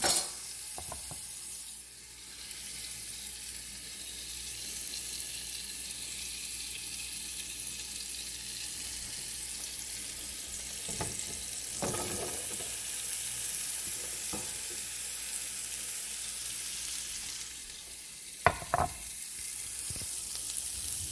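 Chopped onion sizzles steadily in a hot pan while a wooden spoon scrapes and stirs it in a few short bursts, a continuous close frying hiss with no voices.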